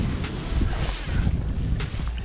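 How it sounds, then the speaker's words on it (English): Strong wind buffets the microphone beside a lake dam, a loud rumbling roar with gusty low-end thumps and hiss throughout, no voices. "it is crazy windy right here"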